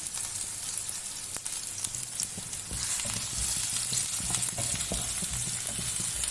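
Chopped ginger frying in a pan, a steady close sizzle with scattered crackles and occasional stirring scrapes, continuous with no talking.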